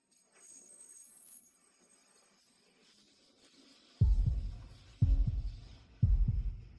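A heartbeat sound effect thumps three times at a steady, one-second pace, deep and close, after a faint hum.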